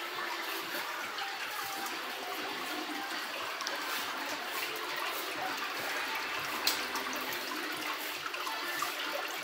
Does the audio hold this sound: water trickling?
yes